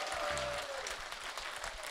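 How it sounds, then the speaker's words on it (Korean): Crowd applause for party leader Seo Chung-won at a Dobong community gathering, a dense, steady wash of clapping throughout the short stretch with a brief tone sliding through near the start. "우리 서청원 대표님에게 뜨거운 격려의 박수를 다시 한 번 더 부탁해"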